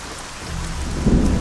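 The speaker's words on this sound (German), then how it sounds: "Regen macht glitschige Steine" Rain pours steadily with a low rumble of thunder building toward the end, the storm ambience of the video game Arcania, close and continuous with no voices.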